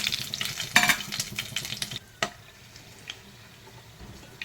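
Whole spices, bay leaf, fennel, cardamom, cloves, stone flower and cinnamon, hitting hot oil in a pan for chicken gravy, a burst of sizzling with sharp crackles early that fades to quieter spitting and a few pops.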